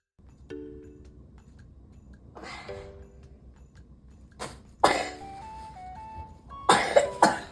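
A pet cat coughs in short, harsh bursts, a couple close together and another pair near the end, loud and close, with quiet tonal sounds between them.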